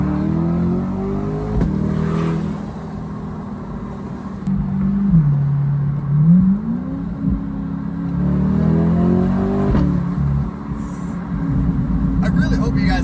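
Stock Chevrolet Corvette C8 engine droning and rising and falling in revs, steady and fairly loud throughout, with voices talking over it.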